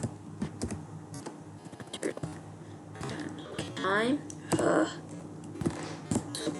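Someone types on a computer keyboard while coding a Python snake game, giving quiet irregular key clicks in short bursts, with a few louder clacks partway through.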